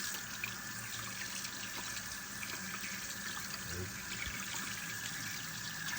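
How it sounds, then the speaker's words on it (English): Running tap water pours steadily over a large catfish as blood is rinsed off in a sink, a continuous splashing wash at moderate level with some faint background noise. "my first step is simply just to rinse all of the blood stuff off"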